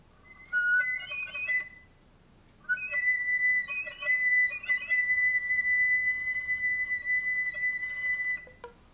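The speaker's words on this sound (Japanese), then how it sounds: "同じ指使いでホイッスルトーンが出ます。" A flute plays whistle tones, thin pure high pitches in a few short bursts before a longer sustained whistling note, played solo and fairly quiet.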